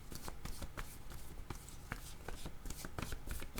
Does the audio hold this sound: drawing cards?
yes